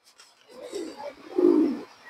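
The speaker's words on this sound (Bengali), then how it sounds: "বেজি কবুতর এবং বাঘা কবুতর দিয়ে করা" Beji and Bagha pigeons give low, soft cooing calls in a rolling phrase that swells and peaks near the end, heard close and alone.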